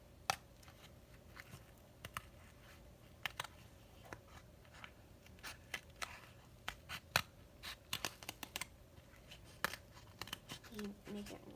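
Scissors snipping paper into a dinosaur shape for a kids' craft, sharp short cuts coming in irregular bursts, louder and more frequent toward the end, with no talking over them.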